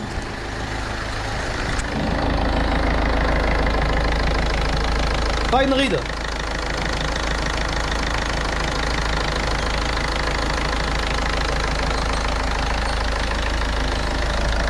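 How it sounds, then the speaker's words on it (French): A Ford Fiesta 1.4 TDCI diesel with an automatic gearbox idles close by, a steady clattering knock held throughout, with someone talking over it and a brief sweeping noise midway. "Il tourne super bien le moteur."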